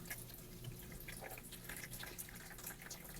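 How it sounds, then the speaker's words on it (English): Water poured into a toy pool, steady running water splashing and trickling into a shallow basin, a continuous wet rushing sound with small bubbling details, no voices. "Let's add our water."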